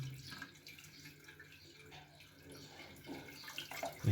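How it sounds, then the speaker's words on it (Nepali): Water runs steadily from a newly joined pipe, a soft continuous trickle and splash close by, with a few louder splashes near the end. "अनि यसरी पानी आएको छ।"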